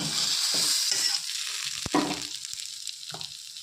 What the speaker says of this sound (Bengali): মিনিমাম আরও এই কচু কষাবে